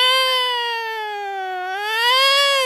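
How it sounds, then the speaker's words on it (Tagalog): A drawn-out, wavering cat yowl, loud and close, sliding down in pitch and then rising again in a single continuous tonal cry. "Pwedeng dalawang pusa na nag-aanuhan yan."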